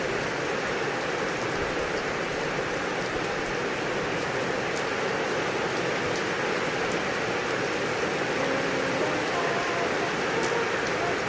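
Heavy rain pours steadily during a storm in Laos, a dense, constant hiss of downpour on surfaces that fills the whole stretch without letup, close and loud.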